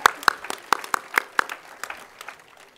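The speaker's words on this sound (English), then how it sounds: "Give her a round of applause." Scattered applause from a commencement audience at Holy Names University in 2012: a few sharp, distinct claps, fairly close, that quickly thin out and fade away.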